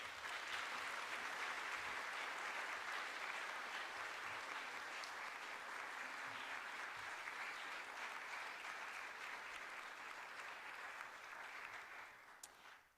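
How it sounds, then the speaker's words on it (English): Steady round of audience applause for candidates at the close of a community candidate forum in Anacortes, a continuous wash of many hands clapping at moderate distance, easing off near the end. "Please give them a round of applause."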